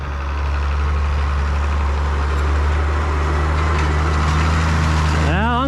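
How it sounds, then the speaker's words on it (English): A farm tractor engine runs steadily in sixth gear while disking a field, a loud continuous low drone with a constant hum throughout and a rising whine near the end. "He's driving tractor. I think he's got it in 6th gear"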